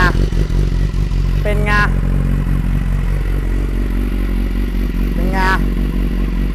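A BMW S1000RR sport motorcycle at a Thai dealership, its engine running loud and close with rough idle and brief revs, while people talk excitedly over it.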